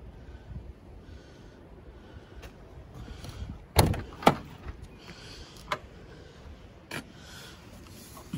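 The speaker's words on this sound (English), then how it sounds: "Again, the door frames are perfect and they shut beautifully as well." Doors on a Land Rover 110 V8 station wagon being shut, two sharp solid thuds close together midway, then fainter knocks and clunks, with quiet handling noise between.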